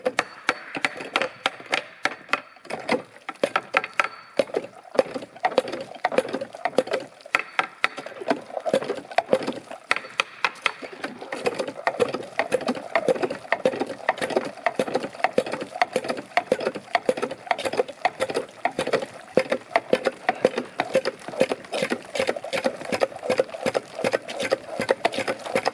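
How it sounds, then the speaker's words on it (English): A steady run of rhythmic mechanical clanks and creaks, one after another, from an old hand water pump being primed and worked at an off-grid log cabin; close by, with no talking. "Well, we're pumping water."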